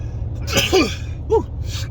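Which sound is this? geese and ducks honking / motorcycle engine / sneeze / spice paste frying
sneeze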